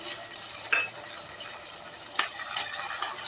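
Garlic, curry leaves and fenugreek sauté in hot oil for a sardine curry, a steady close hiss broken by two brief scraping stirs, with no talking.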